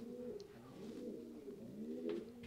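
Pigeons coo steadily in a racing-pigeon loft in Trzebinia, Poland, a soft continuous chorus of low throaty calls from several birds close by, with faint rustling.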